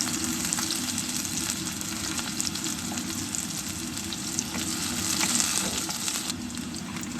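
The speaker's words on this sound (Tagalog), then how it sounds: "Nagpainit na tayo ng mantika at hinulog na natin ang sibuyas. Papupulahin lang po natin ang sibuyas at ihuhulog na natin ang bawang." Onion and then garlic fry in hot cooking oil, giving a steady, dense sizzle that stays even and close throughout with no one speaking.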